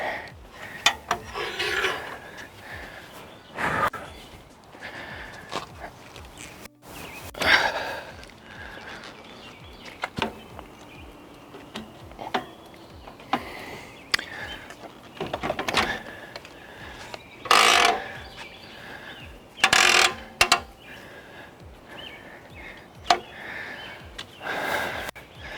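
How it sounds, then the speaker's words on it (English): A second bike goes onto a 1UP-USA bike rack on a Jeep, with scattered rasping, rubbing and clicking metal handling noises in short bursts, fairly close and moderately quiet. "Now let's go ahead and add a second bike"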